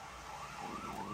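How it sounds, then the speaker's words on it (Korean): A faint ambulance siren wails in the distance, its pitch sliding up and down over steady background noise. "소리는 앰뷸런스 소리야"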